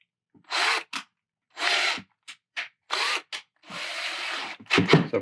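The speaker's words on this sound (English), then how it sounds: "we're gonna drill a 3/32 hole into the crab" Small drill boring a 3/32 hole into a sculpted crab figure, heard as a series of short, close whirring bursts of uneven length with brief silences between.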